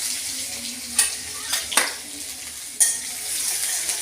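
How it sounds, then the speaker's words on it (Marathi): Crushed garlic dropped into hot oil with popped mustard seeds and cumin, giving a steady low sizzle with a few sharp spatters and stirring clinks, close by, no talking. "आता ठेचलेला लसूण टाकते मी"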